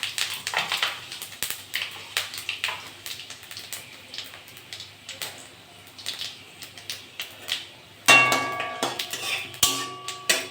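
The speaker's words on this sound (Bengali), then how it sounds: "তেলটা গরম হয়ে গেছে, পাঁচফোড়ন দিয়ে দেবো।" Panch phoron seeds crackling and spattering in hot mustard oil in a kadai, a steady busy fizz and popping throughout, with sharper clinks of a spoon against the pan near the end.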